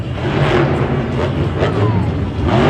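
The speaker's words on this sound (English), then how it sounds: "You're only hearing the trucks." Monster truck engines revving in a sparsely filled stadium at Monster Jam in St Louis, a loud, close, rumbling roar that rises and falls with throttle bursts, with no crowd noise over it.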